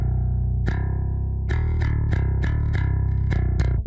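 Dingwall bass guitar through a plain DI with all processing off, playing a held low note followed by a run of evenly spaced plucked notes, close, clean and alone.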